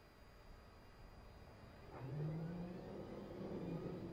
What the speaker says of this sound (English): You can hear the engine starting.